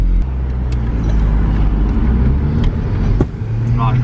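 An Audi TT Mk1 with boost issues pulls away: a loud, close engine rumble holds steady for about three seconds, then dips briefly and carries on.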